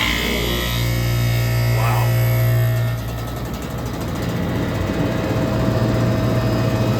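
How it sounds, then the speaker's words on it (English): A large window air conditioner with a 0.5 horsepower motor runs loudly in a garage, giving a steady heavy hum with a strong low drone and a broad whooshing of air. "That's a pretty big motor for an air conditioner."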